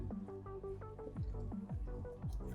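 Water pours from a bottle into a machine's reservoir, a close gurgling trickle with rising glugs and bubbling as the tank fills, no voices.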